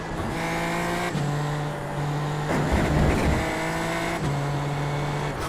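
A Super Formula Lights race car engine in iRacing at Fuji, partly wet, whines steadily at high revs and shifts pitch around gear changes, with a rougher, noisier burst midway as the car brakes or rides the curbs.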